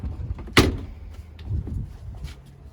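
A bow block-off door on a 2020 Grady-White Freedom 235 boat shuts with a single close, sharp thunk, followed by faint handling knocks and light rustling.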